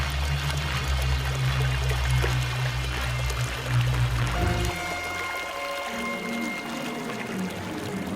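Water pours and splashes loudly as a donkey carrying sacks of salt deliberately falls into a river, a steady rushing flow that thins to a lighter trickle near the end.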